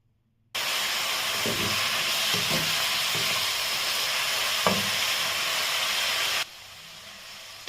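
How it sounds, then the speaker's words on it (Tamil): Oyster mushrooms sauté in a little oil in a pan, producing a sudden, steady loud hiss and sizzle that holds for about six seconds, with a few soft stirring knocks, then cuts off abruptly. "மஷ்ரூமை கொஞ்சமாக எண்ணெய் சேர்த்து இதை நம்ம வதக்கி எடுத்துக்கலாம்"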